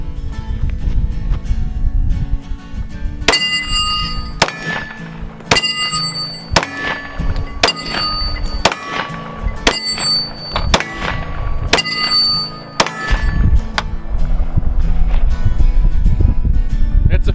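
A Glock 20 Gen 4 10mm pistol fired outdoors during a hunting trip: about eight sharp, loud shots spaced roughly a second apart, each ringing briefly over a steady low background rumble.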